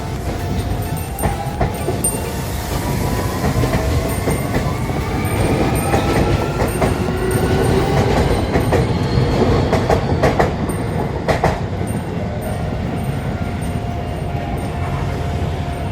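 A commuter train bound for Kichijoji departs past a level crossing in Tokyo at close range, with continuous rumbling and rhythmic wheel clatter, faint squealing tones rising above it, loud throughout.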